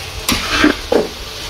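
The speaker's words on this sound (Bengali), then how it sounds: "পেঁয়াজ ভাজতেছি" Onions fry in a pan with a soft, steady sizzle, punctuated by a few close scraping stirs of a spoon against the pan; no talking.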